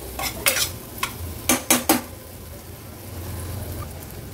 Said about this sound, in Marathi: टोमॅटो पण वाटणामध्ये परतून घेते।